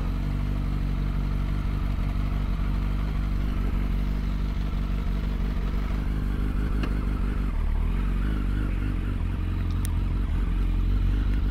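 A Yamaha R1 motorcycle rolls through a car park, its engine a steady close low rumble with slight variations in throttle and faint clatter, no voices.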